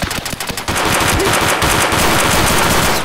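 Loud automatic gunfire rips through an Escape from Tarkov match: a few separate shots at first, then a sustained, dense burst that carries to the end, with no talking.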